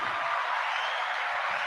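Crowd applause at the FSIN hockey championship, a steady wash of clapping at moderate distance without distinct voices.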